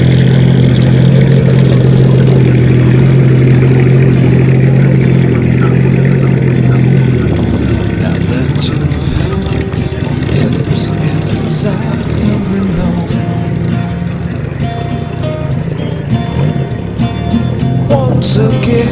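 Porsche 911 rally car engine at Rallye Alsace, a loud steady drone that holds at one pitch before shifting into rougher revving with sharp crackles, continuous and close throughout.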